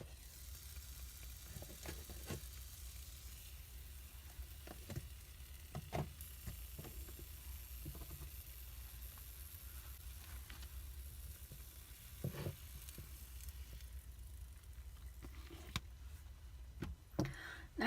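Steady soft sizzle of an egg frying sunny side up in a small XYY 6-inch mini skillet, with occasional faint pops and ticks, quiet and close.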